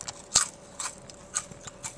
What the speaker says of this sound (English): Crunchy lentil chips.